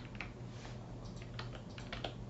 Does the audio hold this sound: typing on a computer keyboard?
yes